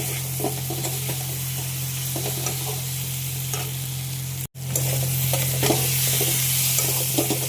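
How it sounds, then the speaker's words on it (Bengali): Potatoes fry in a spiced masala paste in a pan, with a steady sizzle and repeated scraping stirs. A low electrical hum runs underneath, and the sound cuts out briefly midway. "মশলার মধ্যে আলু দিয়ে আলু কষানো হয়ে গেছে।"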